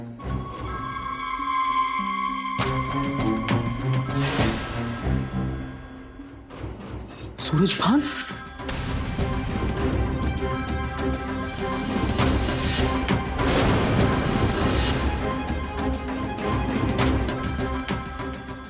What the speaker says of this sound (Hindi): और ये किसका फोन बज रहा है?